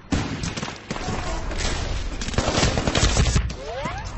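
Assault rifle fire in Medal of Honor Warfighter multiplayer, with dense bursts of automatic shots and explosive booms running throughout, loud and cluttered, with a voice briefly audible in the mix.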